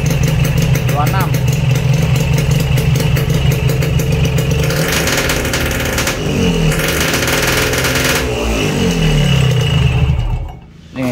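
A Yamaha RX King two-stroke motorcycle engine revs high and holds at loud, raspy throttle, with rising and falling pitch sweeps, close to the bike, someone talking over it.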